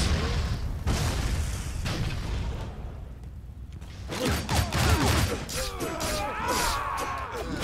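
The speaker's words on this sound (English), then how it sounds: "Detonate the bombs above." Bombs detonate in the Shank 2 video game, with rumbling booms and whooshes amid dense action sound effects, quieting briefly in the middle before a renewed burst of crackling blasts and mechanical clatter, with talk over parts of it.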